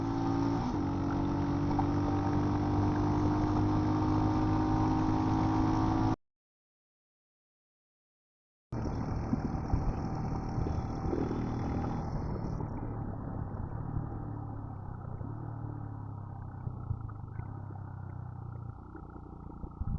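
A Royal Enfield Himalayan 411 motorcycle rides through marshland, pushed hard in third gear. Its engine drones steadily and loudly, drops to brief silence for a couple of seconds, then returns with a rougher, fluttering tone.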